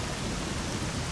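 Steady rain in a video game hisses as a dense, even wash of noise, constant and unbroken throughout, with no voices.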